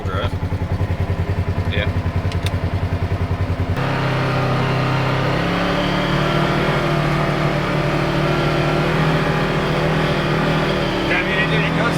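2024 Polaris RZR XP 1000 side-by-side engine starting and then idling and driving, a loud close rumbling drone that shifts pitch as it gets underway, with brief talk over it.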